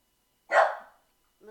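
A small dog lets out a single sharp, close bark indoors, and a person's voice begins speaking just afterward.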